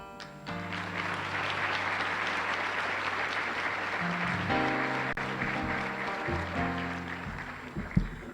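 Applause from a cotillion audience fills the room, steady and fairly loud throughout, with sustained music tones underneath and no speech.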